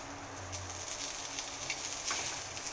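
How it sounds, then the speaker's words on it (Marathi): Onion frying in oil until golden, giving a soft, steady sizzle with light patter, fairly quiet and continuous, without talking. "आता कांदा मी छान असा गोल्डन कलरवरती भाजणार आहे"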